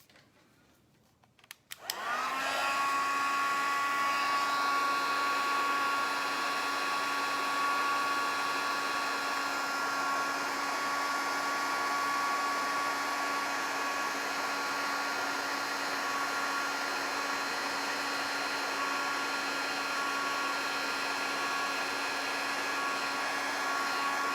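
A heat embossing tool switches on and blows hot air in a steady, loud whirring hiss during a shimmer paint craft session, running unbroken for over twenty seconds.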